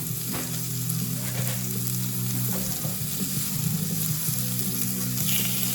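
Garlic and braising ingredients for smoked plate ribs sizzle steadily in a hot pan as they cook down, a continuous close frying crackle with occasional stirring scrapes and no talking.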